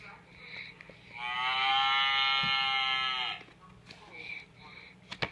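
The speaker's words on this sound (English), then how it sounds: "There's the cow." A cow lets out one long, drawn-out moo of about two seconds, fairly clear and close, with quieter faint background sounds before and after.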